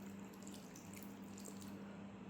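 Water pours steadily into a cooking pot of Filipino paksiw na isda, soured with lemon; a quiet, continuous trickling stream with no talking.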